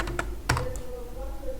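Keys on a computer keyboard tapped to enter a Linux terminal command, a few quick clicks close by over a steady background hum.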